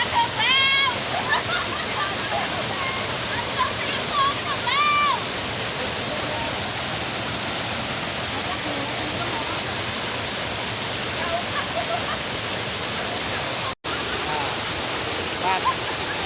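Thi Lo Su waterfall gives a steady, loud, broadband roar of falling water for the whole stretch, with brief voices near the start.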